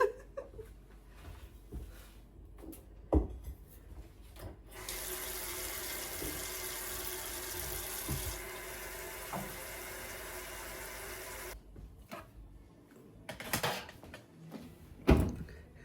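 Water runs from a tap while houseplants are watered, a steady hiss lasting several seconds between quieter stretches with clinks and handling noises.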